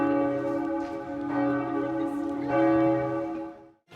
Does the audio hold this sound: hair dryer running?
no